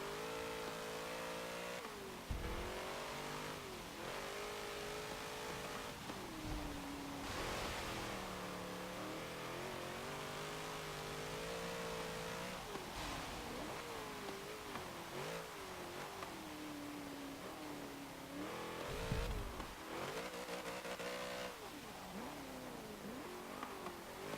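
A 1963 Volkswagen Type 2 De Luxe van with heavily boosted power, raced in Forza Motorsport 7, drones with a loud, sustained engine note that rises and falls steadily as it revs through gear shifts, with no talk over it.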